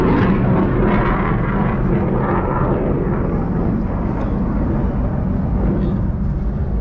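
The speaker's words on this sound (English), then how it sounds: "It's military jet action." A military jet roars overhead near a street in Madison, a loud, steady broadband rumble filling the whole stretch without letting up.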